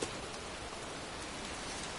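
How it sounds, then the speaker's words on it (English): Heavy rain pours down outdoors near a cemetery in a dense, constant hiss that stays loud and unbroken from start to finish. "It's raining. I'm standing outside getting soaked."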